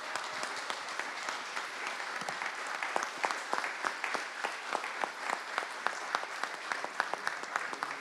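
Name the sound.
applause for Paula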